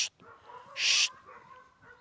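Herding dogs bark while working a group of young calves on a cattle operation: a sharp bark at the start, then a louder, longer bark burst in the middle over quiet outdoor background.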